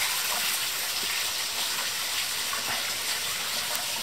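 Water pours steadily into plastic bags being filled with about 15 litres each for stocking young pike, a constant close rushing gush with no pauses.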